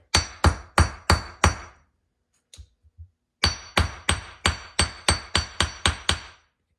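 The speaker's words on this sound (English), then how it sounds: "A bit of forging on that to straighten it out." Hammer blows forging a metal hook straight while making a bungee cord: a run of four sharp ringing strikes, a short pause with a few light taps, then about ten more evenly spaced, loud metallic hits close by.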